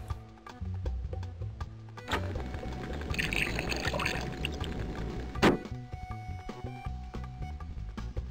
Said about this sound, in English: It's a bucket of water.